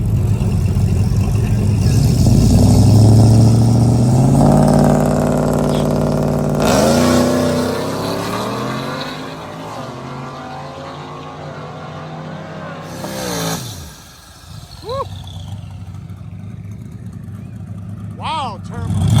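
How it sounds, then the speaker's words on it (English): A Ford F-150 running four slicks revs loud and close at a drag race, the engine roaring and rising in pitch before easing off, then sharp whistling revs near the end; a voice talks over it. "Got a nasty F-150 here with 4 slicks."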